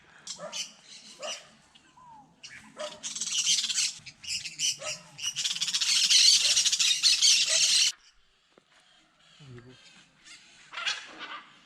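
Birds calling on a morning walk in Brazil, chirps and squawks near and far, mixed with a dog barking and whimpering, with a loud dense stretch of calls midway, then quieter.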